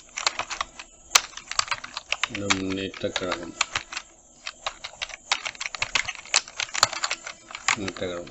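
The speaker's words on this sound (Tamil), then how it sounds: "அதை நம்ம டைப் பண்ணிடும்" Rapid clicking of computer keyboard keys while typing text in Photoshop, loud and close, in irregular bursts with a voice speaking between the keystrokes.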